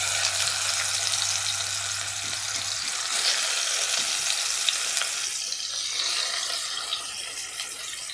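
Pieces of katla fish coated in salt, turmeric and chili powder fry in hot oil, giving a loud, continuous sizzle and crackle that fills the whole stretch with no talking.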